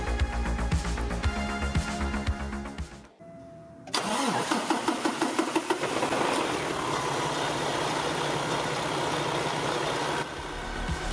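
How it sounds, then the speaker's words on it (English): A Paccar truck diesel engine cranks with rapid mechanical clatter after a fuel filter change, pauses briefly, then catches and settles into a loud, steady idle. "Lock it down, then we'll try to start the engine."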